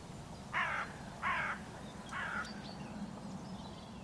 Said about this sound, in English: The birds retreat to the nearby tree again, but then fly off.